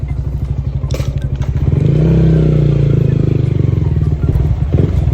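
A Malaysian Sniper 155 motorcycle with a stock pipe idles close up in a loud, rapid, lumpy putter, then briefly revs and settles back to idle.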